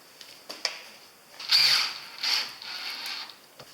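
A power drill drives a screw into a wooden pull-out bed frame for a camper van conversion, with a couple of short whirring bursts and clicks at close range, fairly quiet, with no talking.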